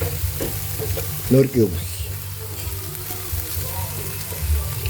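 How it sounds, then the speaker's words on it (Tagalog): Ground pork sautés in a hot pan, a steady sizzle close by with brief stirring scrapes, while a person speaks briefly over it. "Gisang-gisa na po yung ating giniling."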